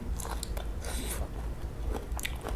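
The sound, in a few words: biting and chewing crispy stir-fried okra in oyster sauce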